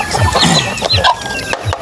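Several chickens cluck close by in quick, overlapping bursts, loud and busy, with scattered clicks and knocks of a wooden board being tapped to call them to feed.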